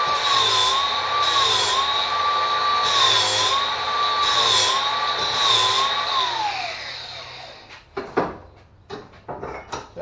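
Power grinder working a steel tube for motorcycle front down bars, a loud steady whine wavering in pitch as the tool is moved, then winding down into clanks and handling knocks.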